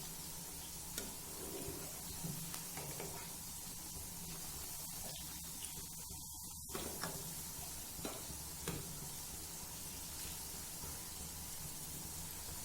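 Kadhi pakoras fry in hot oil as they are turned, giving a steady, close hiss of sizzling with occasional soft stirring scrapes and taps, and no talking.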